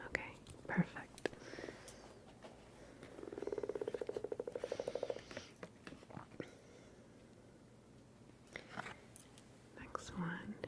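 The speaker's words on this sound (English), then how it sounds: "Can you hear the sounds of the frog? The ribbit, perhaps sound to the pond?" A frog's rapid, pulsing croak repeats for about two seconds in the middle, with faint rustling and soft breathy noises around it.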